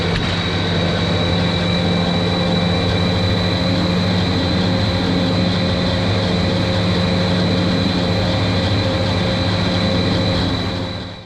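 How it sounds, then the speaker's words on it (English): A 1974 International 966 tractor of about 100 horsepower pulls a 2013 New Holland 7330 discbine mower through a hay field, its engine a loud, steady, close droning hum that holds unbroken for the whole stretch. "Our equipment combo today is a 1974 International 966 rated at around 100 horsepower. We're pulling a 2013 New Holland 7330 disc bind"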